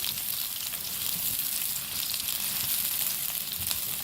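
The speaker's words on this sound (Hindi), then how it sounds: "ये देखिए 3 अदद जवे लिए, उसको हल्का सा फ्राई करेंगे" Finely chopped garlic cloves fry lightly in hot oil in a pan while Indian jeera rice is being made, giving a steady close sizzle that runs unbroken and fairly loud without any talk.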